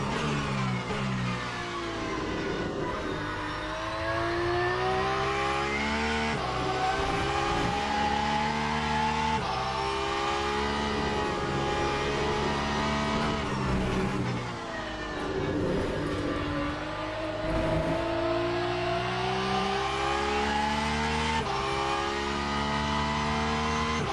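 A Porsche LMP2 race car in a racing game screams loudly through repeated gear changes, its engine note climbing and dropping in cycles with brief tire squeal and no talk.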